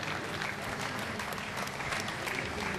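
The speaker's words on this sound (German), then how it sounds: "Großer Applaus mit ihr zusammen, Alexander T. Müller." Dense, steady applause from a large audience, a continuous wash of clapping with no voices over it.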